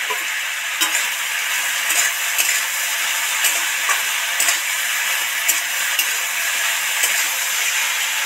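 Whole green chillies and ridge gourd frying in hot oil in a pan, giving a steady close sizzle and hiss with faint ticking pops scattered through, and no voices.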